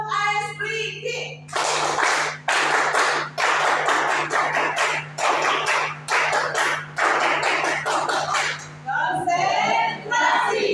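A standing group at a family-communication training session performs a rhythmic ice-breaking clap routine: loud, close bursts of clapping in a patterned beat, with voices speaking or chanting at the start and end.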